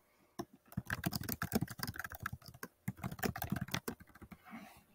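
Someone types an answer into an online textbook on a computer keyboard, with close, quick bursts of key clicks and short pauses between runs.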